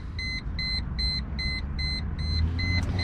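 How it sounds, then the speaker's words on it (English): Key-in-ignition warning buzzer inside a 2006 Chrysler Crossfire Limited, a steady train of about seven evenly spaced electronic beeps over low cabin rumble, loud and close, with no talking. "my nitpick on this car is that buzzer is really obnoxious"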